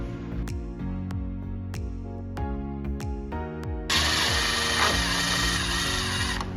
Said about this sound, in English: Simply remove the screws.